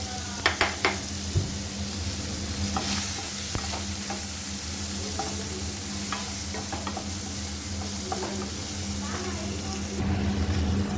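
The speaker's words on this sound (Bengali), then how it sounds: "একই কড়াইতে আমি পনিরগুলো ভেজে নিচ্ছি অল্প অল্প" Paneer sizzles steadily in hot oil in a pan, with a few sharp utensil clinks near the start and a constant close frying hiss.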